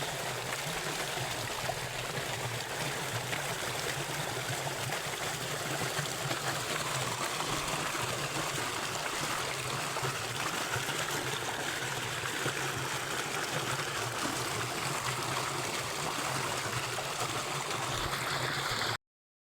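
Irrigation water flowing into a chickpea field, a steady broadband rush and trickle, constant and fairly close throughout with no voices.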